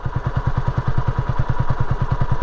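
A Honda CB250RS motorcycle idles close by after an engine rebuild, a loud, even, rapid thumping beat that holds steady throughout.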